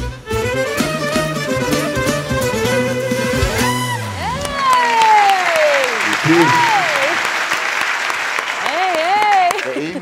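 A studio audience applauds musicians after a Turkish song, the clapping rising loud and sustained as the music fades and a host speaks over it.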